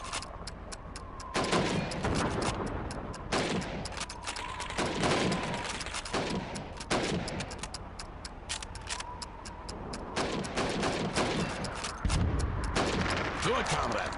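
Rifle shots ring out at helmet targets during Red Army training in Call of Duty 2. Sharp single cracks fire one after another at an uneven pace over low background sound.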